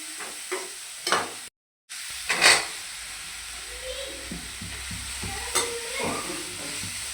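Broccoli and baby corn sauté in a pan for a salad, with repeated scraping stirs over a continuous frying sizzle, a brief dropout early on, and no talking.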